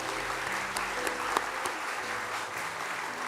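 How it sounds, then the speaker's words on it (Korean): A church congregation applauds after new members are baptized during a Sunday service, a continuous, fairly soft patter of many hands with no talking over it. "박수로 격려해 주십시오."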